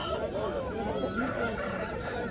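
At a busy Aseel poultry market, roosters and other fowl cluck and call amid a dense crowd murmur, with people talking nearby and the birds somewhat mixed into the din.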